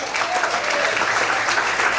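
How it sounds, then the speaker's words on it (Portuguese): A church congregation applauds during a Portuguese-language service led by Pastor Luciano Escala, with a loud, dense, sustained clapping that fills the room. "Você pode aplaudir e glorificar a Deus."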